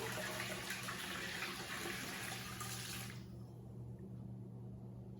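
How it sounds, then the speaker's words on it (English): Brine is poured over a turkey in a container, a steady rushing splash of liquid that runs for about three seconds and then cuts off, leaving quiet room tone. "I'm going to add my brine."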